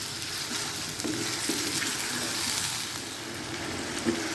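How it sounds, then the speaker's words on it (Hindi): Chicken fries on a high flame, a loud, dense sizzle heard close and continuously, with a few soft stirring bumps. "हाई फ्लेम पे हमने चिकन को फ्राई कर लिया है और चिकन भी बड़ी खुशी फ्राई हो रहा है।"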